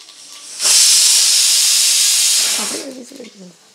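A pressure cooker whistle on a kitchen stove vents steam in a loud, steady hiss lasting about two seconds, then fades as a voice speaks briefly.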